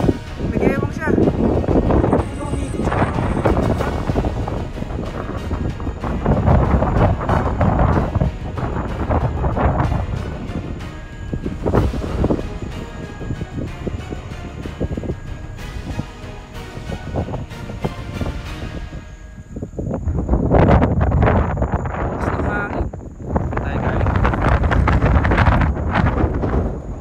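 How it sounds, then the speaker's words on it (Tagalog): Strong gusts buffet the microphone on an exposed mountain road between Ilocos Norte and Apayao in the Philippines, a loud, rough roar that rises and falls in waves, easing briefly before surging again, with people talking under it. "Grabe guys, sobrang lakas ng hangin, no?"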